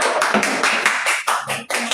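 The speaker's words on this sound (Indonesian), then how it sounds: "Ya, kita berikan tepuk tangan untuk kelompok kata." Classroom group clapping for a presenting group, loud and close with sharp, rhythmic bursts of several hands striking together in a quick, roughly regular beat.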